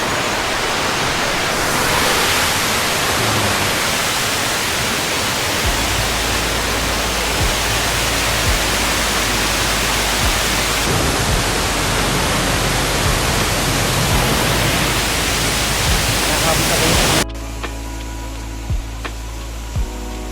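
Waterfall at Cat Cat Village in Vietnam roaring as a dense, steady broadband rush, loud and close for about seventeen seconds before cutting abruptly to a quieter ambience.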